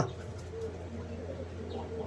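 Pigeons coo softly in short low calls over a steady background hum, close but faint.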